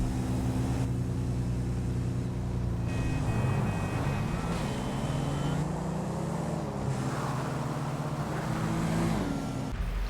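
Drag racing car engines in GTA V roaring continuously, the pitch dropping and climbing as they rev and shift through gears, loud and steady for the whole stretch.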